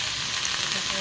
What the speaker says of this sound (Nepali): प्याज अनि गाजर बन्दा साग अनि लसुनको पात भुट्दैछु।